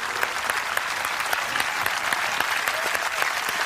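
Large concert audience applauding the orchestra at the Colosseum in Rome after a performance, a dense, continuous wash of clapping with scattered sharper claps.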